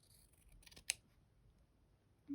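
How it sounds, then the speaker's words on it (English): Scissors snip through a fabric border on a thread-painted robin portrait, a couple of quiet close cuts with one sharp snip standing out in a hushed room. "Let me just cut a little bit more."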